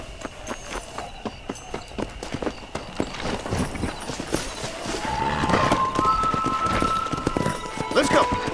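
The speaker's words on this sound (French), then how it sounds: "Faut faire la course de cheval." Galloping horse hooves in a Red Dead Redemption horse race, a steady rapid clip-clop running throughout under game music and ambience, growing louder and denser in the second half.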